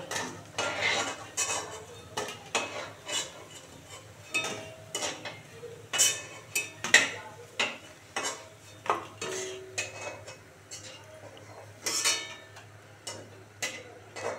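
Repeated metallic clinks and scrapes of a utensil against a pan while lifting fried soybean pakoras out of oil, irregular taps and rattles close by, with no talking.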